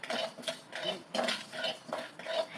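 A spoon scrapes and stirs chilli powder spices dry-roasting in an empty pan, a faint, rhythmic scratching that repeats roughly every half second.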